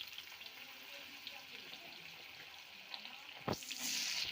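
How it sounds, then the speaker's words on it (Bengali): Nigella seeds, thinly sliced potato and eggplant fry in hot oil with a low continuous sizzle, swelling into a louder hiss near the end after a sharp clatter. "ওর মধ্যে আমি কালো জিরে ফোড়ন দিয়ে দিচ্ছি। দেবো পাতলা পাতলা করে কাটা আলু আর বেগুন।"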